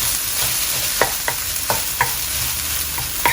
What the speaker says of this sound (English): So I'm just frying it around before I add in any other seasoning.